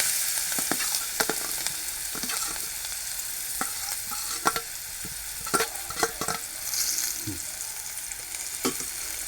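Onion, green chili and a spoonful of turmeric stir-frying together in a pan: steady close sizzle broken by repeated sharp scrapes and taps of a spatula, no voices.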